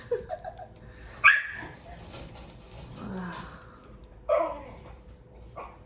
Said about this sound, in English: Every time my cat walks past her cage, she has to bark.